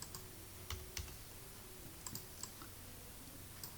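Sparse, quiet keystrokes as Java code is typed on a computer keyboard: a few separate clicks and a small cluster of taps over a steady low background hum, with no voices.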